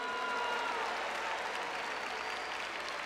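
A church congregation claps together in steady, dense applause, loud and continuous throughout with no pauses.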